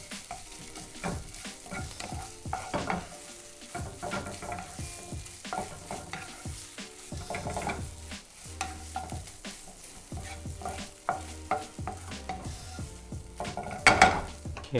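Ginger sizzles softly in warming olive oil in a pan, with a steady low frying crackle, frequent stirring scrapes and occasional clinks of a utensil against the cookware; no one speaks.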